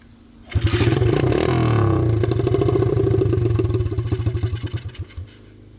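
SSR 125 dirt bike engine starting up and revving hard outdoors, a loud, rough buzzing roar held for several seconds before breaking into sputtering, uneven pulses as the throttle drops and it nearly dies.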